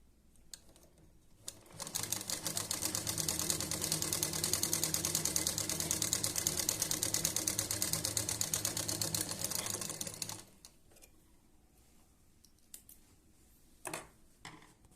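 Sewing machine stitching after its stitch length dial is turned to a larger setting, a steady close rattling hum of rapid needle strokes lasting about eight seconds, then stopping, followed by a few quiet handling clicks.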